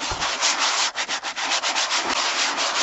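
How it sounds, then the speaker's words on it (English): A dingy bucket's bottom is scrubbed with sand, giving a steady, close, loud gritty rubbing that repeats in quick strokes with short pauses, and no voice is heard. "The bottom, add little sand, and then scrub it."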